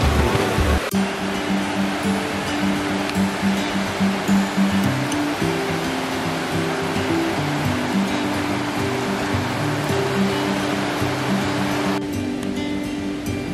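Ocean waves roll onto a Konkan beach near Ratnagiri at night, a loud continuous wash of surf, while a steady tonal drone that may be from a nearby engine or machine hums underneath.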